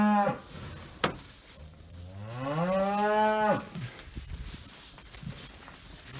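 A cow in a calving barn in cold weather lets out one long, close, rising moo, with faint shuffling and stepping before and after it.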